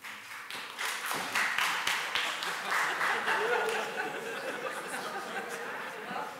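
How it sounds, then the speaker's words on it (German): Audience applause at a session of the Wetzikon town parliament, marking its fifth anniversary: steady, dense clapping from a crowd that fills the whole stretch, fairly close, with a murmur of chatter underneath. "Danke für den Applaus schon mal."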